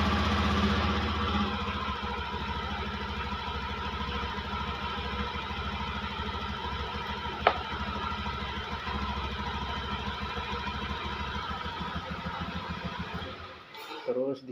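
A Honda Beat scooter with an electric starter fault, now started, idles with a steady low, even putter for about thirteen seconds before cutting off near the end.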